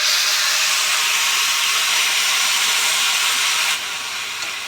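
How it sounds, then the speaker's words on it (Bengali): Ground onion paste from two medium onions hitting hot oil with a bay leaf, a loud steady sizzle and hiss that holds throughout and drops slightly near the end, with no talking. "আমি যে দুটো মিডিয়াম সাইজের পেঁয়াজ বেটে রেখেছি সেই পেঁয়াজ বাটাটা আমি দিয়ে দেব।"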